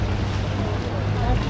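Boats on a Venice canal beside the train station, with steady broadband engine and water wash plus wind buffeting the microphone, continuous and fairly close throughout.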